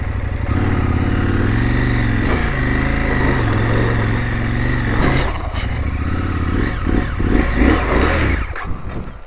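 A KTM 890 motorcycle engine runs close by on a dirt track through coffee country, a loud steady idle whose pitch rises and falls a little, with clattering and scraping as the bike moves near the end.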